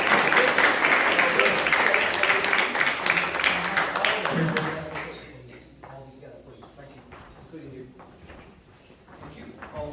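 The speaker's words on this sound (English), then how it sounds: "One final round of applause for these 4 fantastic" A graduation audience applauds the graduating students: a dense burst of many hands clapping, loud at first and fading after about five seconds into scattered claps and murmuring voices.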